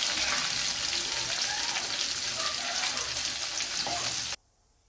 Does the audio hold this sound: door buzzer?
no